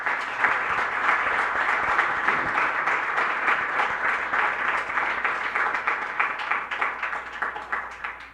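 Steady, dense applause from an audience at a preparatory school ceremony, many hands clapping continuously at moderate volume and trailing off slightly toward the end.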